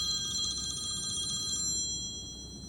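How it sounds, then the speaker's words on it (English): An electronic telephone ringtone trills in steady repeated bursts for about a second and a half, then stops, leaving low room noise. "my phone always rings when I'm doing my video."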